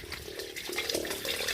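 Water gushing steadily from a newly drilled borewell, a continuous splashing rush heard close up, with faint voices in the background.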